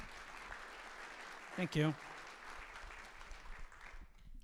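Moderate audience applause welcoming a speaker at a data and AI summit, continuous throughout, with a short spoken thanks briefly rising above the clapping.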